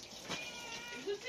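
A young wild cat gives a short, close meow, with a light rise and fall, against a quiet background.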